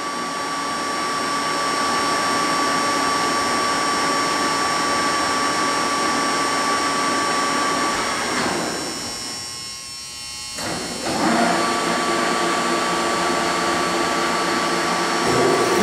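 A Lucas 441B-72 table-type horizontal boring mill spindle turns at 453 RPM, giving a loud, steady whirring drone with a constant whine that briefly dips and shifts midway before resuming.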